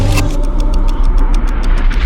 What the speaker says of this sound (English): There's a car out there.